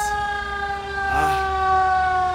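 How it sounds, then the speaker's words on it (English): Fire engine siren in America, a loud sustained wail with a rising sweep midway, heard over a low traffic rumble. "The noise of the fire service in America gets me. It's just too loud."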